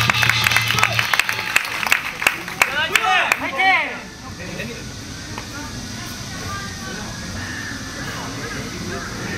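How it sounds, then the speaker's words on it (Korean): Applause from spectators at a taekkyeon battle match, a burst of clapping in the first few seconds mixed with sharp knocks and crowd noise, fading into a quieter murmuring hall. "네, 큰 박수 부탁드립니다."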